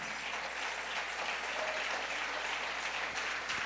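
A church congregation applauds in a steady, dense roar of clapping that fills the room throughout.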